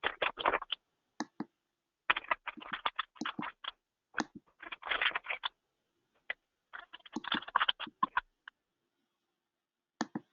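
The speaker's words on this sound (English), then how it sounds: "I'm going to hear some typing" Computer keyboard typing during an online class call, bursts of quiet, rapid clicks separated by short pauses, faint and close with no voices.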